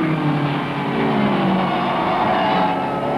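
An early Alfa Romeo race car roars past close by and steadily as it crosses the finish line at a vintage motor race, heard on an old archival recording with no talk.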